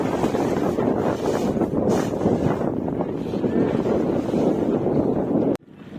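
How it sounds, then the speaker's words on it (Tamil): Strong, steady wind buffets the microphone beside a salt-hauling lorry on the road out of Thoothukudi, Tamil Nadu. The roar stays dense and unbroken for several seconds with no voices, then drops away sharply just before the end. "காற்று கப கப கபம் அடிச்சுட்டே இருக்குங்க."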